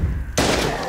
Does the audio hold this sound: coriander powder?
no